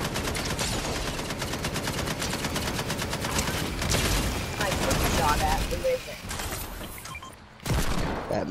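Rapid bursts of gunfire in Fortnite sound in quick succession, aimed at a car, loud and crackling with brief pauses and a final sharp burst, while players talk over the shooting.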